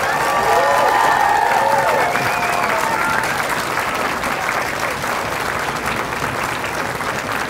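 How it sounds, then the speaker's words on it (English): Loud, sustained applause from a lecture audience at a physics show, a dense crowd clapping that stays strong throughout, with some voices mixed in near the start. "I think all of us Martians should give Professor Sprott a very loud applause"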